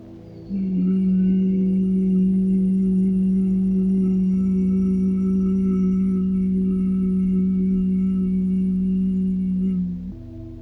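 A person hums one low, steady resonant tone as a guided pineal gland meditation exercise, held loud and close for about ten seconds with no talking.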